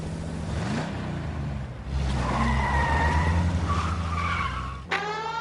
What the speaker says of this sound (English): Suspect vehicles engaged in illegal street racing.